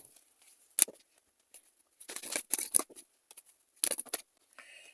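Tarot cards picked up and handled, giving short crisp papery snaps and rustles in a few separate bursts with quiet gaps between, close and fairly soft, with no voices.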